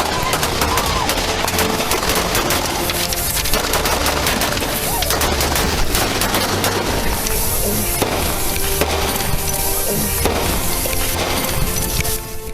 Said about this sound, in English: Lamb suddenly opens fire